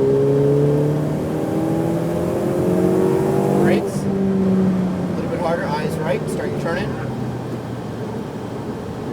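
A Ferrari 488 Pista engine revs up and winds down through gears nearby on a track, with turbo whine and flutter, while a person gives driving instructions over it.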